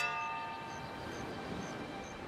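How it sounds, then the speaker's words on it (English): Ship's bell ringing in the Pillars of Eternity 2: Deadfire video game, a single metallic clang whose tone rings on and decays over about two seconds, moderately loud with no speech. "Who's rung the bell and why?"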